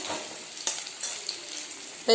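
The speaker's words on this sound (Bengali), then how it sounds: "কালো জিরাটা এবার ভাজা ভাজা হয়ে যাচ্ছে।" Black cumin seeds frying in a pan give a soft, steady sizzle, with a few brief stirring scrapes rising above it and a sharper clatter at the very end.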